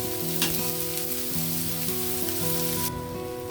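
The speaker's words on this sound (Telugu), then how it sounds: "ఉల్లిపాయలు కొద్దిగా వేగనిద్దామండి. ఉల్లిపాయలు కొంచెం వేగిన తర్వాత మిగిలిన ఇంగ్రీడియంట్స్ యాడ్ చేద్దాం మనం." Onions fry in a pan for a cashew tomato curry, a continuous bright sizzle with light stirring, heard over steady background music.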